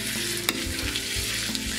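Tomato tipped into a pan of frying pork and lamb for rice sizzles steadily and close, with stirring scrapes and a sharp clink partway through, no voices.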